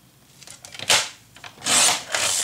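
A paper scoring tool drags across cardstock on a scoreboard for a crafts project, giving short rasping scrapes in a few close strokes with small taps between, and no talking.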